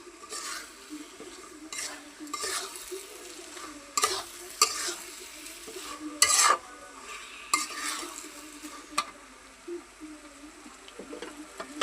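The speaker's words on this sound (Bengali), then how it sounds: "এখন এই যে চালটা দিয়ে মাংসটার সাথে বাইজা নিব।" Rice stirred and fried with chicken in a pot for biryani, giving repeated scraping stirs and bursts of sizzling at an uneven rhythm, close and fairly quiet, with no talking.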